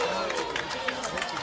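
A baseball crowd at an Iowa vs Northwestern game cheers and calls out for a strike, a steady wash of distant crowd noise with scattered shouts and claps.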